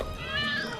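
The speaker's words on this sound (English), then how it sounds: "Hope you like cats." A cat gives a single drawn-out meow, close and fairly soft, with a rising then falling tone over a light background hum.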